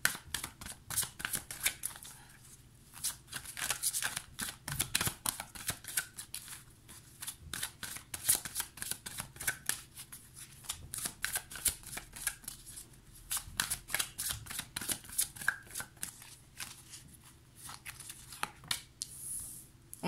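Tarot cards shuffled by hand before a reading, a long run of quick, crisp riffling flutters and soft slaps in irregular bursts, close and fairly quiet.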